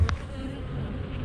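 Honeybees humming steadily around an opened hive during a beekeeping session, a close, continuous low buzz with a brief sharper sound at the start and no talk over it.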